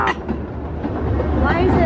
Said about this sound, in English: Who needs the Velocicoaster when you've got the Blackpool Pleasure Beach train?